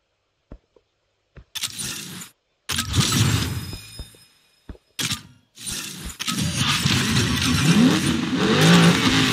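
Porsche engine in an Asphalt 9 race, with short loud revving bursts broken by silent gaps, then a sustained roaring run that builds toward the end.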